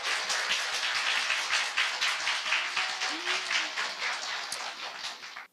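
An audience claps through a Korean talk-show segment, with dense, fairly even applause from start to end before it stops abruptly.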